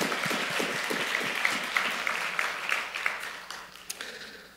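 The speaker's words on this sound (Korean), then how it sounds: "감사와 영광의 박수를 우리 한번 올려드리도록 하겠습니다" A church congregation at a Wednesday worship service breaks into applause, dense clapping from many people with a few sharper individual claps standing out, sustained throughout at moderate loudness.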